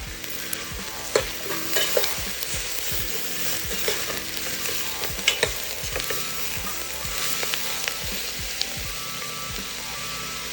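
Onion and baby carrots fry in a pan for a carrot and coconut milk soup. A constant sizzle runs under repeated scraping strokes of a spatula, close and busy, with no voices.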